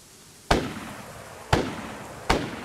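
Three loud, sharp gunshots crack out in a DayZ firefight, spaced about a second apart, each with a short echoing tail.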